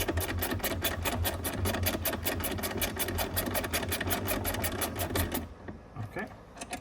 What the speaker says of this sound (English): We have a 10 millimeter up top here, which I have a wrench for. My ratchet, I mean.